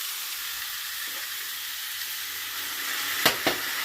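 Bacon stir fry sizzling in a pan at home, a steady close crackling hiss with a couple of sharp clinks near the end.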